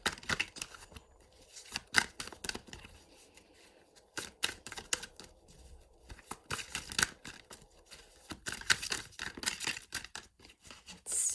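Tarot cards are shuffled in quick bursts of crisp riffling and flicking, close by, with brief pauses between rounds and no talking.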